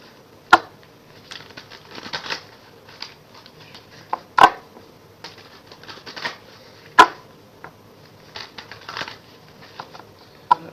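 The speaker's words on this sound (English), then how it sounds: "I'm not sure why I'm shuffling face up, but I can see all the cards." Tarot cards being shuffled face up by hand, with sharp snapping riffles every couple of seconds between softer sliding and tapping, close and clear with no speech.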